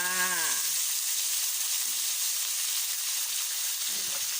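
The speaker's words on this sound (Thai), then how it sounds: "พอหมูสุกเราก็จะใส่บวบลงไปนะคะ" Pork belly and luffa gourd fry in a pan with a steady, close hiss of sizzling oil that continues evenly after a brief voice at the start.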